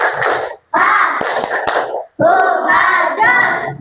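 Children in a classroom perform a rhythmic spirit clap, chanting loudly in unison with sharp hand claps in short patterned bursts separated by brief pauses, close and lively.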